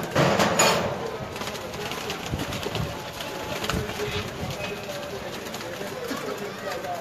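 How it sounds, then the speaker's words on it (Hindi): Male pigeons in a loft in Gujranwala coo and shuffle, their soft murmuring calls and wing movements mixed with a voice talking over them, close and fairly loud, with a louder burst near the start. "میل کبوتر ہیں، سارے نر ہیں"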